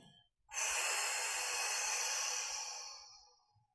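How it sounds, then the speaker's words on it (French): A long, slow exhale after a held breath during a sophrology relaxation exercise, a loud breathy rush starting abruptly and fading gradually over about three seconds, close to the microphone with no talk. "je retiens mon souffle et j'expire"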